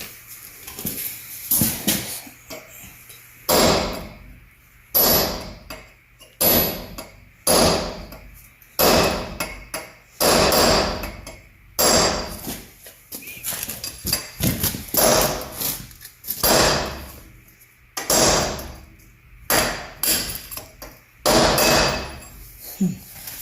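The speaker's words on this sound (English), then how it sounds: "punch and try hitting the U-bolts down" A hammer strikes a punch against the U-bolts of a 1971 Chevy pickup, ringing metallic blows landing in irregular bursts and single hits, loud and close, with brief pauses between.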